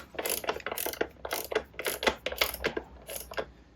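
A wrench ratchets in quick bursts of sharp metallic clicks while tightening the rear axle nut on a Yamaha R6 motorcycle, several short runs with brief pauses between, close and fairly loud.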